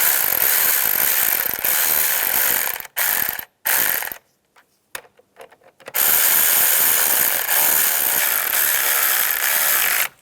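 A ratchet wrench snugs down the bolts on a fuse box while installing a fog light wiring kit on a 2010-2017 Chevrolet Equinox, steady dense clicking in bursts broken by short pauses, close and loud.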